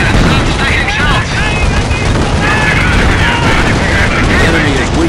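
Gunfire in a Company of Heroes battle set during Operation Market Garden: dense, loud bursts and booms layered continuously under shouted in-game voice lines.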